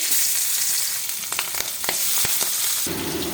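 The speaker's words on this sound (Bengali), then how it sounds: "তেলটা গরম হয়ে গেছে, মাছটা ভেজে নেব" Hilsa fish frying in hot mustard oil, a loud close continuous sizzle with a few sharp spatters and crackles, no talking.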